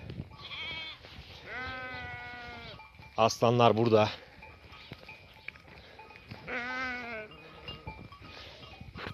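Sheep on a highland pasture bleat several times, with close, loud wavering calls separated by pauses, while someone speaks briefly.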